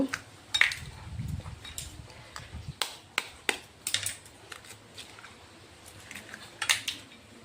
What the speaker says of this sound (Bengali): তো এখন আমি যে ডিমগুলো নিয়েছি ওই ডিমগুলোকে ফাটিয়ে দিয়ে দিচ্ছি